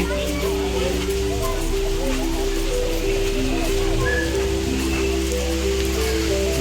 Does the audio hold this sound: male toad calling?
no